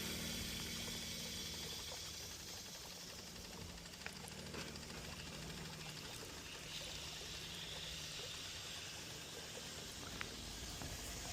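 Water runs steadily through a customer's service line just after the meter is slowly opened, a faint, continuous rushing hiss with no talking and a couple of tiny clicks.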